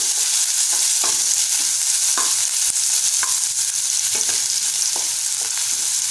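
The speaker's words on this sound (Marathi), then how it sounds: "त्यामध्ये बारीक चिरलेला कांदा घालूया। परतवून घेऊया।" Finely chopped onion sizzles steadily in a spoonful of hot oil, a loud continuous frying hiss broken by several clicks of a spoon stirring the pan, close up with no voices.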